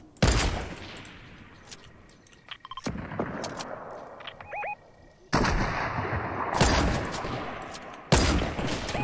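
Gunfire from the video game Fortnite comes in sharp bursts: single shots, quick volleys and longer loud stretches of firing, intercut with quieter gaps of game ambience.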